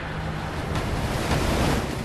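Ocean waves break against the rocky Pacific Northwest coast of Oregon beneath tall fir forest, a continuous loud surf roar mixed with wind rush, swelling slightly midway through.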